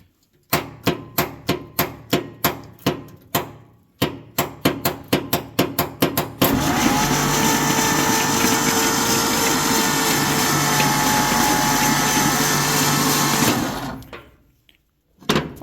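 A 1959 Ford F-100 4x4 pickup, revived after 30 years on a likely weak battery, gives a run of sharp starter-solenoid clicks, then its engine cranks over on the starter in a loud steady churn for about seven seconds before stopping.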